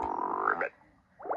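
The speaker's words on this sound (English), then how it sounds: "When do they start sounding like frog?" A cartoon frog gives a drawn-out croak for the first half, then falls quiet before a shorter croaking burst at the end, close and clear.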